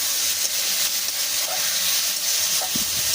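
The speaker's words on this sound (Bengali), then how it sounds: "দিয়ে নাড়িয়ে চাড়িয়ে মশলাটাকে এইভাবেই কষবো আমি।" Spice paste being stirred and fried in a pan with boiled peas and pre-fried potatoes for a Bengali fish curry, giving a steady close sizzle with faint scraping stirs.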